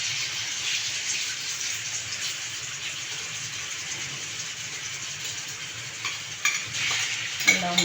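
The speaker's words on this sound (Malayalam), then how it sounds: "ചിക്കൻ ഇട്ടിട്ടൊന്ന് ഫ്രൈ ചെയ്തെടുക്കണം." Chicken pieces frying in oil for a pickle make a steady, close crackling sizzle throughout, with a few brief clinks and stirring scrapes near the end.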